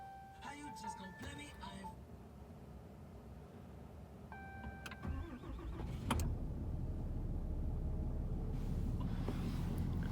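A 2019 fifth-generation Cummins diesel pickup engine cranking and firing up in the cold, the start catching around midway and settling into a loud, steady low diesel rumble, with brief chimes and a voice early on.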